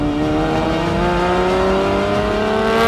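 Hyundai Ioniq 5N electric car with synthesized engine note, revving hard well past 3,000 RPM, a loud close tone climbing steadily in pitch throughout with no talking.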